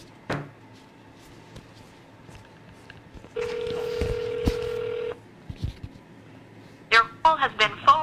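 A landline telephone gives a steady tone for about two seconds after a few faint clicks, and then people talk nearby.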